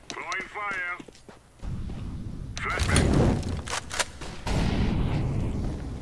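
Gunfire in Counter-Strike: Global Offensive during a competitive match, with sharp sudden shots and bursts over a steady game din while players talk.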